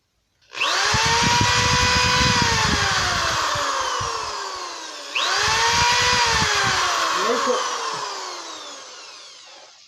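A power drill bores out wood in two long passes, the motor whining loudly and sagging in pitch under load, then revving again, with no one talking.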